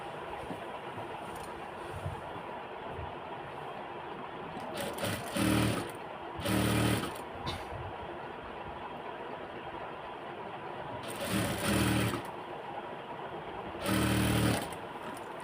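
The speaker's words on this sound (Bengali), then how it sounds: "তো এটাকে এখন আমি মেশিনে সেলাই করে চতুর্থ সাইড দিয়ে সেলাই করব।" A sewing machine stitches a garment in short bursts of rapid, rattling clatter, four runs separated by quieter pauses with a soft background hum.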